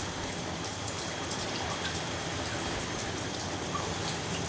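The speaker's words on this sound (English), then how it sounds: "Nah, still looks like rain." Rain falls steadily around a camp on a stormy night, a dense even hiss with close raindrop patter on surfaces, continuous and fairly loud, no voices.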